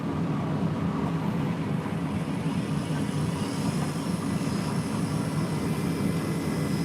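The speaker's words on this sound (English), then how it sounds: "I have a blower down there. I'm trying to dry out part of the basement" A blower runs continuously in a basement to dry it out, giving a steady, fairly loud droning whoosh with a faint whine, alone with no talk.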